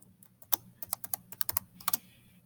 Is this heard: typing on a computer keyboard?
yes